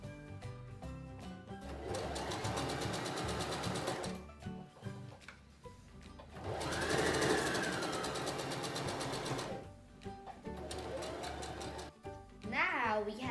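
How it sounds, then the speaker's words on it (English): A sewing machine stitches around the lining of a fabric tote bag in long, steady runs with short pauses between them, mixed with other sounds. "Now we have just finished sewing all around it."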